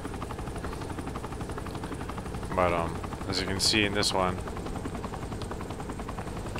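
A helicopter in Saints Row the Third's Heli Assault activity at Sunset Park, with a steady rotor drone under a narrating voice and a short burst of weapon fire near the middle.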